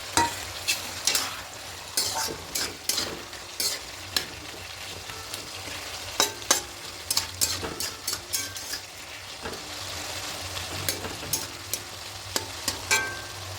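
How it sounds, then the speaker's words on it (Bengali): Fried hilsa fish heads stirred into a bottle gourd curry, steady sizzling with sharp spoon scrapes against the pan repeating throughout, close up. "এবার ভেজে রাখা ইলিশ মাছের মাথাগুলো দিয়ে দেবো"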